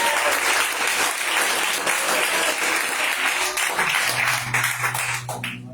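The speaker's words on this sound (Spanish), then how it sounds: "Dale un aplauso al Padre." A church congregation applauds, with dense, loud clapping from many hands that fills the space and thins out toward the end.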